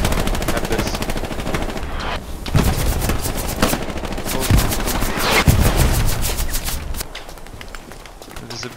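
Battlefield gunfire in the World War II game Hell Let Loose, dense automatic and rifle shots crackling continuously with heavy low rumble, loud and close, building to a thick volley before thinning near the end.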